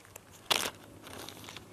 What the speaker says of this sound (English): plastic bag for packing out used toilet paper